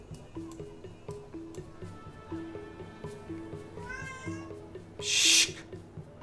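A cat meows loudly from just outside a room, a drawn-out wavering call heard once over steady rhythmic game music, followed by a brief hissy burst.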